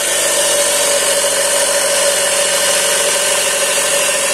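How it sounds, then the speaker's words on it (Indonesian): PJ piston espresso machine switched on and pumping toward 12 bar, a loud, steady mechanical hum with a constant buzzing tone running unbroken throughout. "Dan kita hidupkan mesin PJ espresso."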